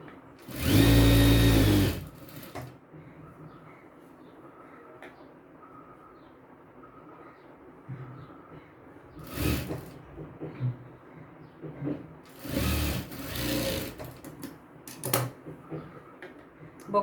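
A sewing machine stitches a square katori blouse in a loud close burst of about two seconds, followed by quieter handling sounds and shorter bursts of machine running later on.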